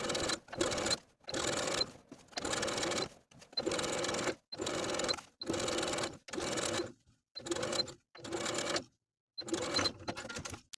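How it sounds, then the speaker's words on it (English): A sewing machine stitches lining to the seam allowance along a garment's upper edge in repeated bursts of steady whirring, about a second each, separated by short pauses, close and clear. "we're going to sew the lining to the seam allowance all the way around the upper edge"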